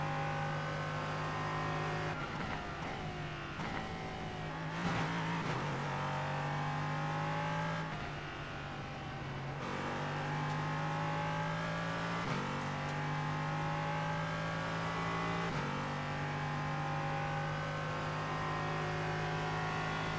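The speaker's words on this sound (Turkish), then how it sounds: "Eğer arabanın sesini duyuyorsan arabanın devrini kaçırma şansın yok ya." A video game racing car engine drones steadily at high revs, pitch rising and dropping through gear shifts, loud and continuous with no talking.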